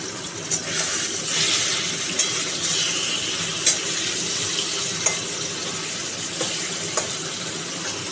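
Bhangon fish frying in a little oil in a kadai over a gas flame: a continuous close hiss and sizzle with occasional small pops and clicks, with no talking.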